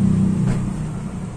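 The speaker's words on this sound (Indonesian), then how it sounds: "Kita nyalakan dulu mobilnya." Daihatsu Xenia X 2016 with 195,000 km on the odometer, its engine running at a steady low idle with a deep, even rumble, loud and close throughout, with no voices.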